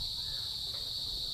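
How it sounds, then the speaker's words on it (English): Loud, steady crickets chirping at night in Naga City, Bicol, Philippines, forming a continuous high, dense trill that runs unbroken from start to finish. "The crickets are really very loud."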